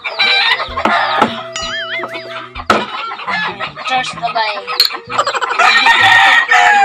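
A rooster crows loudly several times nearby, its rising and falling calls ringing out over clucking hens and people chatting in the background.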